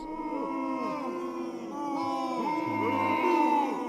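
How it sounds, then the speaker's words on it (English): Crowd booing sound effect triggered from a Stream Deck button, a sustained low jeering chorus of voices rising and falling through several swells, loud and continuous. "this is booing me"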